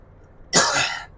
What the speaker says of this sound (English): I say as I'm coughing up the vape.